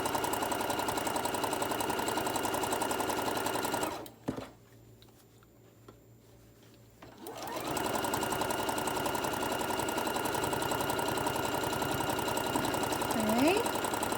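A sewing machine stitching a straight seam on a small tote bag runs in a steady loud whir, stops for about three seconds, then resumes the same continuous buzzing stitch.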